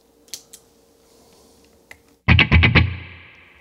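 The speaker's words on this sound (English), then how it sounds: "Let's hear both pickups together and see what the Sam heck we got going on here." Gibson Custom Shop 1958 Les Paul electric guitar on both pickups. Faint picking comes first, then a loud run of five quick distorted strums that ring out and fade.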